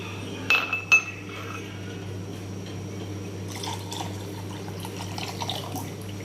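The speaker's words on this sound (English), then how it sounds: "you need 1 cup of water and 1 cup of milk. Add them together in a bowl." Water and milk poured together into a bowl in a kitchen, for microwave tea: two sharp clinks of glass or dishware near the start, then a soft, faint splashing trickle of liquid over a steady low hum.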